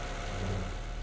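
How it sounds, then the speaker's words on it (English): Car engine idling in the Car Dealer Simulator video game, a steady low rumble at a moderate level, alone with no talk. "as you can hear, the engine sound"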